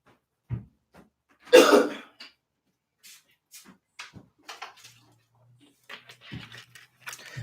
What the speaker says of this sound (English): You just stop in the middle and you just start coughing.